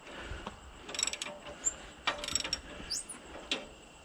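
Hand tapping and chasing threads for the center bolts while mounting the rear end of a 1937 rat rod: faint, irregular metallic ratcheting clicks and scrapes in short bursts over a quiet room hum.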